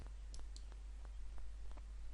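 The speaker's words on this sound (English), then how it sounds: "So if I click on Enable Content" A computer mouse clicks on a software button, a series of sharp, faint, isolated clicks scattered at irregular intervals over a quiet hum.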